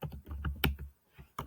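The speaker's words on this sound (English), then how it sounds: "Typing funny. I don't usually work on a Chromebook." Fast typing on a Chromebook keyboard, close up, with an uneven burst of key clicks, a short pause, then a few more taps.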